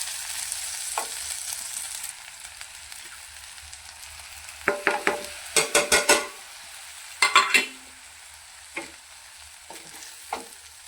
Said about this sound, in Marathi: हे टमॅटो चांगलं फ्राय करून घेऊया